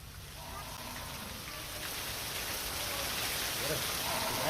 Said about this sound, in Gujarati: લખપતના દયાપર ખાનાઈમાં વરસ્યો છે વરસાદ